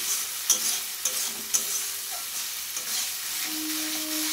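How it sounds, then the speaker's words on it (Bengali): Masala spices sizzle softly in a pan with a little added water for a rita tengra fish curry, with a steady frying hiss and a few sharp clacks of a stirring spoon against the pan. "মশলাটা আবারও একটু ভালো করে কষিয়ে নেব।"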